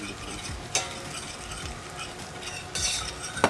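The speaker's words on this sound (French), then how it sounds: "Donc on fait blondir nos échalotes." Shallots browning in fat in a pan give a steady low sizzle, with a few sharp scraping stirs of a utensil against the pan and no voices.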